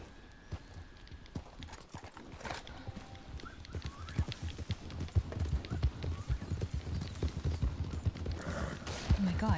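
Horse hooves in Red Dead Redemption 2 clip-clop in a steady, quickening rhythm that grows louder and closer over a low game ambience, with a hint of voices in the background.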